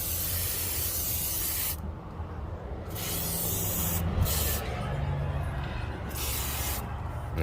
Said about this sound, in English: Let's spray silicone along the tracks here.